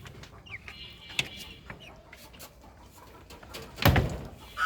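Chickens at a small village home chicken farm cluck softly and sporadically nearby, with a louder flurry of clucking and rustling near the end.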